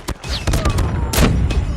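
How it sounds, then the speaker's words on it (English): Automated sentry gun in Call of Duty Mobile on the Shipment map, firing in dense bursts of loud rapid shots mixed with other gunfire and game effects, continuous and close for under two seconds. "Sentry gun deployed."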